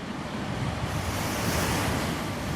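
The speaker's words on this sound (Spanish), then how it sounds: "La tormenta era terrible." A hurricane whips up a stormy sea with high, foaming waves: a dense, continuous roar of surf and wind that is loud and unbroken throughout.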